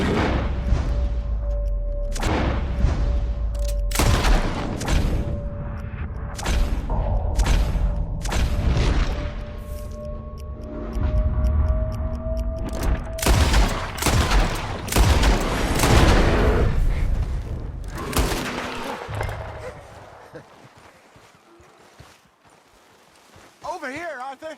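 Gunfire crackles in the Red Dead Redemption video game, with repeated sharp shots and booms in bursts alongside hoofbeats and shouted voices, loud and close before tapering off near the end.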